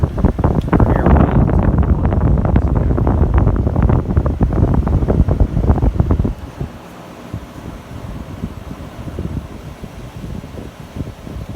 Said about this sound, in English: Turn on the air sweep.